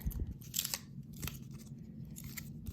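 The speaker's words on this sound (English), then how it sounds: "Let's chop this open quick." Scissors chop open a taped sports card pack, giving a quick series of loud close snips and crinkly crunches of the wrapper with no talking.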